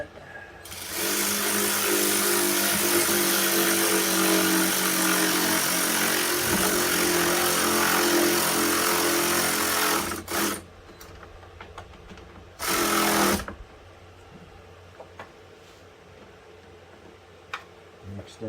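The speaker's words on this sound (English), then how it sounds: "I use my electric ratchet with a number 10" Electric ratchet fitted with a 10 mm socket working on a 2007 Dodge Nitro oil pressure sensor, a loud steady whir of about nine seconds, then two short bursts after brief pauses, with quiet workshop ambience between.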